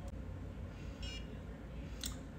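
Two short, high electronic beeps from a facial toning device sound about a second apart over a quiet background hum.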